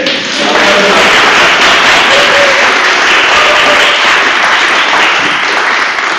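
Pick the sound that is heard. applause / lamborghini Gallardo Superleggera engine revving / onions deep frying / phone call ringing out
applause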